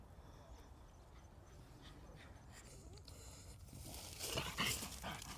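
Close to the microphone, a dog pants softly and whimpers, growing louder toward the end, with a faint voice in the background.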